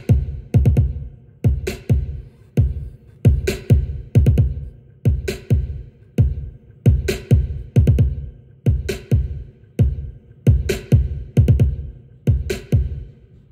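Sampled drum kit in FL Studio pounds out a steady, looping trap soul/R&B beat, with punchy kicks and snappy hits in a regular repeating rhythm, loud and up close with no talking.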